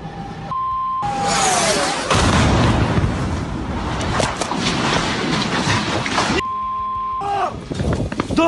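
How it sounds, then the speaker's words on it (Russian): Heavy booming blasts from a strategic missile depot exploding in Toropets rumble through a dense, roaring wash of noise, with brief quiet gaps and a tone between bursts. "Взрывы были такой силы, что местные подумали, не началась ли вообще ядерная война."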